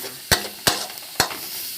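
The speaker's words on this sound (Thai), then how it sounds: "นี่เราเกี่ยวเลยนะคะ" Noodles stir-fried in a wok for a vegetarian pad see ew with corn and fried yellow tofu: three sharp scraping strokes of a spatula over a steady background sizzle, with no talking.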